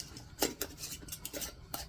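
A spoon clinks and scrapes against a pot while pickled radish brine with spices is stirred, giving a few quiet, irregular metallic taps over about two seconds.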